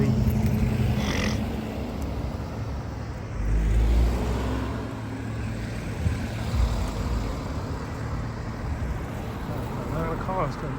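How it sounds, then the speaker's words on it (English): Cars pass along a road in a steady stream, a continuous broad traffic rumble with louder swells as vehicles go by, while a voice talks faintly underneath. "A lot of cars coming."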